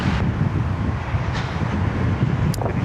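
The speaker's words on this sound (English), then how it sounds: "That wind is steadily picking up" Steady wind gusting around an open-air spot at Sydney Airport, a broad continuous low roar filling the whole stretch, with a faint brief higher sound near the end.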